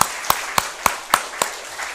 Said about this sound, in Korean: 이때는 우리 하나님께 감사박수 치는 게 맞겠죠.